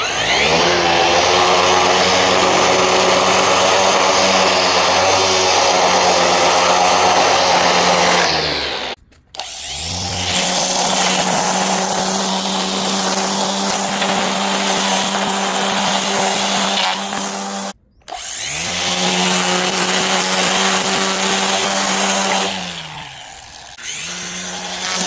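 A Makita cordless string trimmer (DUR192/DUR191/DUR190 series) runs loud and steady at close range, whining continuously with two brief cutouts where the motor stops and restarts, and no talk over it.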